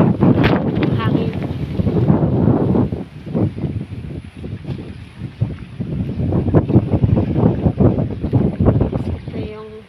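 Gusty wind roaring against the microphone outdoors on a breezy residential lot by a three-meter pathway, loud and continuous with rising and falling surges, while someone talks underneath.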